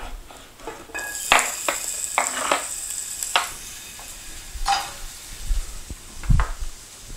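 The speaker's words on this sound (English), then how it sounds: "We're gonna add that right back into the pan that we had our veg in earlier." Vegetables sizzle in a pan with a steady hiss, while a utensil scrapes and knocks against the pan in irregular strokes, close up and without talk.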